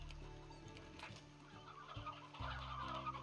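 Chickens in the video game Slime Rancher cluck in short repeated bursts, fairly close, over a quiet low game background hum.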